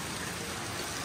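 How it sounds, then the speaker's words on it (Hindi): Heavy rain falls at a hill-station zoo in Nainital, Uttarakhand, a dense, even hiss of drops on surfaces, moderately quiet and continuous, with no voices. "बारिश नहीं रुकी तो हम नहाते हुए जाएंगे"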